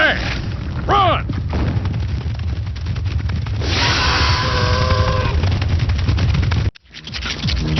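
Gunfire aimed at a creature in the video game Jak II: rapid, loud weapon shots in a dense burst, with a whooshing swell and a brief cut to near silence before the firing resumes.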